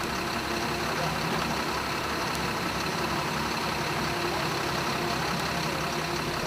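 Truck engine running steadily at a fixed RPM to drive a well rehab stroke rig, a constant low rumble with mechanical noise, heard at moderate distance with no break.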